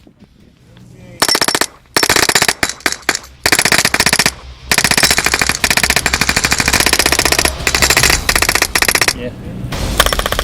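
An airsoft gun fitted with a B.L.Tech BOSS sound system fires loud, close, rapid full-auto bursts broken by short pauses, with a brief spoken word at the start.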